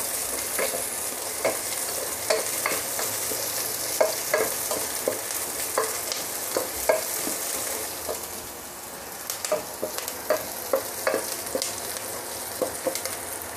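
Minced garlic and onion stir-fry in a cooking pot: a steady close sizzle broken by frequent clacking scrapes of a utensil against the pot, irregular but continuous, with no talking.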